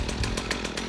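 A warm STIHL KM56 two-stroke engine restarts with a quick pull and runs as a close, loud, buzzy rattle with rapid regular pulses throughout.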